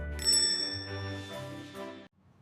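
A notification bell ding sound effect rings out as a bright, sustained chime that decays, then cuts off abruptly.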